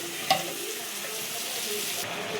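Potatoes sizzling as they go into spiced oil in a pan: a dense, even frying hiss close by, with a single small clink near the start.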